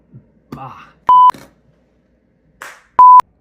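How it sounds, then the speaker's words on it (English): A Google smart device sounds two short, loud electronic notification beeps about two seconds apart, with brief muffled voice fragments in between. "There is a notification for Josh."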